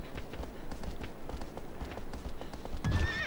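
Agro, the horse in Shadow of the Colossus, clip-clops along in a steady run, then lets out a short neigh near the end, mid-distance over a busy background with no speech.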